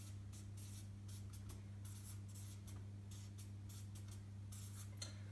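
Marker writing words onto a force field planning chart, quick scratchy strokes in short bursts over a steady low electrical hum, close and fairly quiet.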